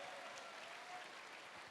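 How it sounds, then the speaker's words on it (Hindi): Audience applause at an Asclepius Wellness company event, a short, even wash of clapping from a seated crowd, moderately faint and steady throughout. "मैं चाहूंगा एक बार जोरदार तालियां होनी चाहिए सर के लिए"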